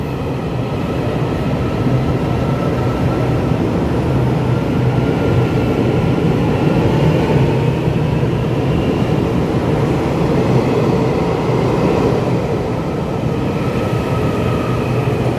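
A coupled EMU822+EMU821 smile-type electric local train, service 4103 from Yilan on the Yilan Line toward Beihu, rumbles past loud and close as a steady rail roar with a high whine throughout.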